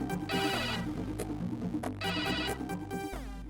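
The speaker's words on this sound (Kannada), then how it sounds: "ಪುಟ್ಟಮಲ್ಲಿ ಅವರೇ ಫೋನ್ ಮಾಡ್ತಿದ್ದಾರೆ" A phone ringtone plays for an incoming call in a Kannada TV serial scene. It is a loud, repeating electronic melody that carries through the whole moment, with no voices.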